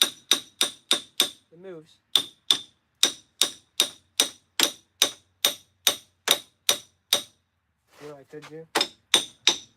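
A hammer repeatedly strikes a stuck metal part on a mower deck, ringing out as sharp clanging blows in a steady, fast rhythm, close and loud, with a brief pause where someone speaks twice between the hits.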